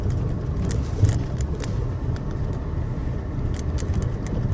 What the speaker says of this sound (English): Then we are moving it to the third gear.